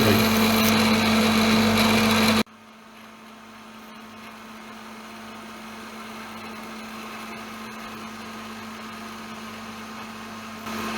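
A Bridgeport-style mill with CNC control roars loudly while machining a star shape in a part for a 3-ton ratcheting lever, then abruptly drops to a quiet, low running hum for the rest of the stretch.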